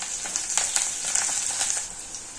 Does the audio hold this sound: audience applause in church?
no